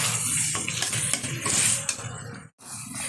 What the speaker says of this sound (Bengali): এবার খুব ভালোভাবে কষিয়ে নেবো।